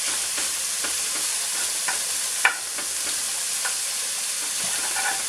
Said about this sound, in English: So we're going to cook off this bacon until it's fried.